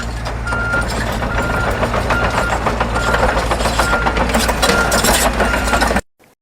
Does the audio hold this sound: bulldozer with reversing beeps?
yes